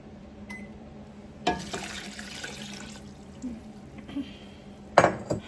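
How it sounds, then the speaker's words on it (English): Water, four cups, is poured over rinsed, chopped vegetables for dill pickle relish in a kitchen, a splashy gush with a few clanks of dishes or utensils and a louder bump near the end. "we're going to now add 4 cups of water."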